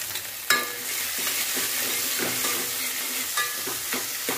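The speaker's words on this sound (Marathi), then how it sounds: "आता टोमॅटो टाकून घेऊया।" Tomatoes tossed into a pan of onion already fried golden, frying with a steady close sizzle and a few sharp stirring scrapes, no talking.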